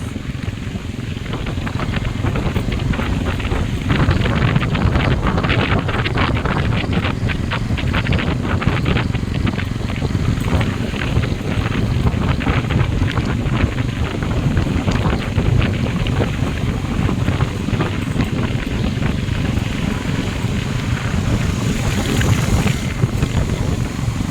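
A steady low motorboat engine drone runs throughout at sea off Ticao Island, Masbate, mixed with wind buffeting the microphone and the wash of water, loud and constant for the whole stretch.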